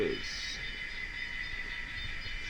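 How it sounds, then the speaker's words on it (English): A video game train runs steadily with a continuous droning rumble and faint tonal hum, moderately loud and unbroken. "just make sure that train's running."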